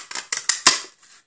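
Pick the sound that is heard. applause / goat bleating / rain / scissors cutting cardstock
scissors cutting cardstock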